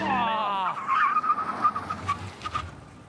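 A BMW M850i slides through a slalom on a test track, its tires squealing in a long, loud skid that wavers and fades over a few seconds, with the engine note underneath.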